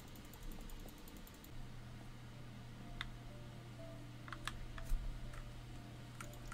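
Keys tapped on a keyboard inside a video game, a light run of clicks and clacks with a few sharper strikes, over a steady low hum and fan-like background noise, with no one talking.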